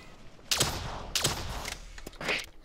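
Gunfire in Call of Duty's Der Eisendrache zombies map: three separate sharp bursts spaced about a second apart, moderately loud over a low game background.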